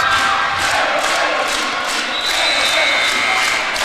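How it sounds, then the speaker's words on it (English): Volleyball fans at a timeout of a high school section championship match, on their feet behind the bench: a loud, dense crowd roar of cheering and shouting that holds steady throughout, with rhythmic clapping pulses. "The Cowgirl fans on their feet behind the bench cheering on the Cowgirls."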